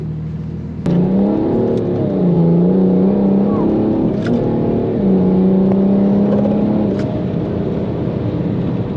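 A stage 3 tuned BMW 335d diesel engine roars and revs hard as the car accelerates with wheelspin, with a steady loud drone and rising whine, close and continuous.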